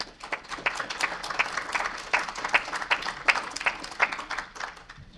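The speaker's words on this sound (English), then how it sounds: "if we can give our delegates another round of applause" An audience at a human rights symposium applauds delegates, a moderate stretch of scattered hand claps from a room-sized crowd, steady and fairly close, tapering off near the end.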